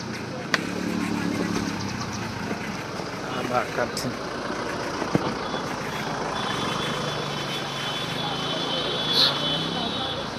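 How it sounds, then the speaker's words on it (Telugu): Heavy road traffic during a Kedarnath trip: a steady, dense roar of trucks and car engines with occasional sharp knocks and a faint high beep near the end, under intermittent voices. "ట్రాఫిక్ గట్టిగా ఉంది."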